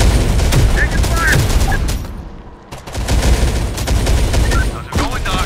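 Rapid automatic gunfire and explosive bursts crackle through Terminator: Dark Fate – Defiance combat, loud and dense, with a brief lull midway before the firing resumes and a sharp final shot near the end.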